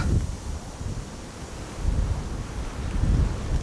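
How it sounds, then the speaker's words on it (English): Outdoor wind buffets a camera microphone near an airport, a loud low rumbling roar that swells and eases in gusts throughout. "So I'm going to turn the camera away from the wind."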